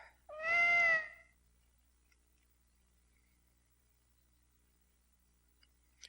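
A single clear cat meow from an RPG Maker video game, heard alone near the start, followed by near silence with a faint click at the end.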